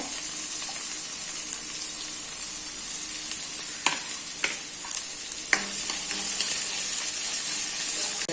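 Onion, green chili and ginger sauté in a pan with a continuous close sizzle and hiss, punctuated by a few brief stirring clicks midway.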